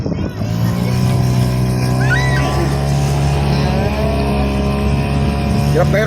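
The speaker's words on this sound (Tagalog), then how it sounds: "Hirap na hirap yung makina." Straining boat engine near a white-sand beach resort at Matabungkay, a loud, steady low drone with a laboring hum that runs close and continuous, with faint voices over it.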